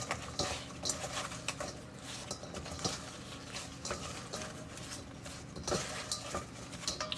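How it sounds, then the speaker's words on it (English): Apple slices are tossed with cinnamon and sugar in a bowl, a busy run of close clattering, tapping and soft shuffling strokes that continues without pause. "we've got 1 teaspoon of cinnamon and we've got half a teaspoon of sugar. We're just going to put that in there and mix this up really well"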